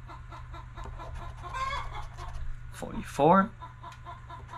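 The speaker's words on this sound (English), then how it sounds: "Sorry about the chicken, guys." A chicken clucks briefly in the background, followed by a short sharp squawk, while a person speaks nearby and a low hum runs throughout.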